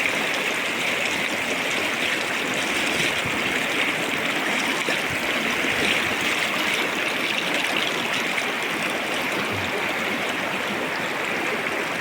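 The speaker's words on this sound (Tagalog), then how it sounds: "May mga ilog na malilinis na pwedeng paliguan. Ito yung uh, ah, Bantak River." Clear water of the Bantak River in Cotabato rushes and babbles steadily over stones, a continuous close stream flowing with no voices.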